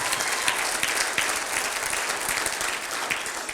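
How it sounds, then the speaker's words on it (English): A conference audience gives a short, dense burst of applause, steady and close-sounding, with no voices above the clapping. "One more clap."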